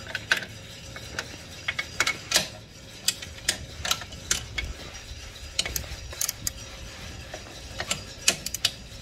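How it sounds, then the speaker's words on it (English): A ratchet wrench loosens a bolt on an electric moped conversion, giving sharp, uneven bursts of pawl clicks, close by and spaced across the stretch with brief pauses between strokes. "I gotta get to that bolt to loosen this"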